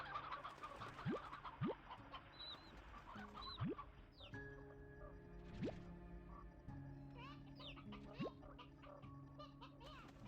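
Chickens and roosters in Slime Rancher 2 cluck and call in short bursts among steady game music and ambient tones, with someone talking now and then.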